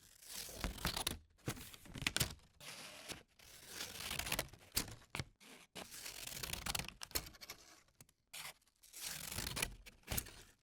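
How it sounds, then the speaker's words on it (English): Scissors cut paper, caught on a single mono cardioid condenser mic: close, dry snipping and crinkly rustling in short bursts separated by brief silent pauses. "here I've got a recording of me cutting paper with scissors"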